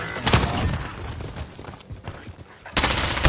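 Gunfire in a video game shootout with an AS Val rifle, loud close bursts of rapid shots at the start and end with scattered single cracks between.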